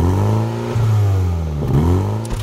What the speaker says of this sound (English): the soul satisfying sound from the exhaust